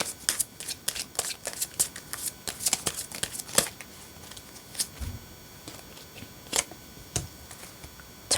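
Tarot cards are shuffled close by, with soft riffling bursts and crisp slaps coming in irregular clusters, quieter in the middle, then a few sharper snaps near the end.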